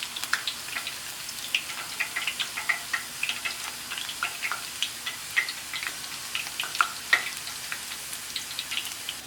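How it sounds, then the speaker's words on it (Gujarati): Thin potato wafers fry in hot oil, a steady, close bed of fine sizzling with dense, irregular crackles and pops running throughout at moderate loudness. "એકાદ મિનિટ જેટલો સમય થતાં આપણી વેફર આવી કિનારીથી વળી જાય એવી તળાવા લાગી છે"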